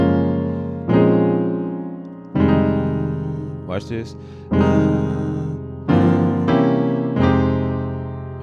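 Chords played on a keyboard in inverted positions to shift between keys, several sustained chord strikes separated by brief gaps, with a short spoken interjection partway through.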